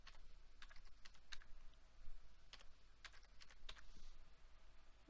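Someone types on a computer keyboard, entering a Cisco password at a router or switch configuration prompt; a steady run of light, quick keystrokes with short pauses, alone in a quiet room.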